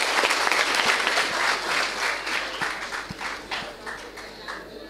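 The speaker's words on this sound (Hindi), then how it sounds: "एक बार जोरदार इनके लिए भी ताली बजा दो भाई।" An audience at a student entrepreneurship event in India breaks into loud, sustained applause, dense clapping that slowly thins and fades over several seconds, with no talk over it.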